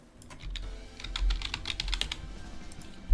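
Rapid typing on a computer keyboard while coding in jQuery, with a close, busy patter of key clicks in short bursts and no talking.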